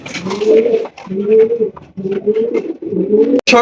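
Close, loud cooing of racing pigeons, a series of low throaty rolling coos in steady succession with brief pauses between them.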